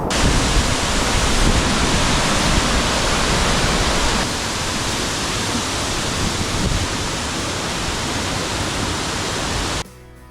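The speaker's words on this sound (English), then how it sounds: "all the recent rain has definitely got this waterfall just a humming" A waterfall swollen by recent rain on Sawteeth Mountain in the Adirondacks roars as a loud, steady broadband rush that fills the scene before cutting off near the end.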